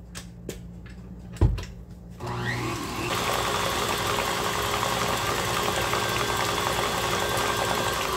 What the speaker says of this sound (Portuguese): Aí vou desligar a batedeira.